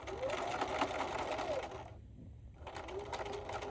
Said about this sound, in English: This is the hardest part about embroidering right up to the edge.